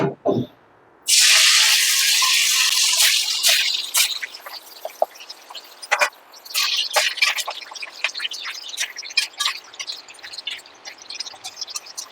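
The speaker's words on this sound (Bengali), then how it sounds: "পনিরটা আমি তেলে ফ্রাই করে নেব।" Paneer hits hot oil for shahi paneer, bursting into a loud hissing sizzle that settles into steady crackling and popping, close up with no talking.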